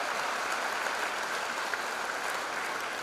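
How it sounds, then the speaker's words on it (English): Audience at a freshers' induction program applauding M.Tech Software Engineering students, a steady, moderately distant round of clapping from a large crowd. "give a big applause to them"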